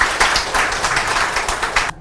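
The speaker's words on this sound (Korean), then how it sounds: "큰 박수로 부탁드립니다." Seminar audience applauding at a domestic violence seminar, a short burst of dense clapping at steady level that cuts off abruptly near the end.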